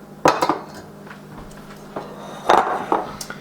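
A metal spoon scrapes and clinks against a bowl while scooping a garlic, butter and parmesan mixture, a few sharp clattering strikes near the mic set among quieter scraping.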